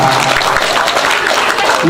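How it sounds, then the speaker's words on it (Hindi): A crowd at a Ramayana recital claps loudly, a dense, continuous wash of applause close by and steady throughout. "एक बार जोरदार ताली बजा"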